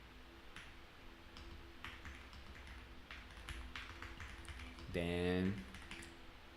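Light typing on a computer keyboard, a loose run of soft clicks and taps behind a steady low hum, with a louder burst of noise near the end and a voice speaking briefly.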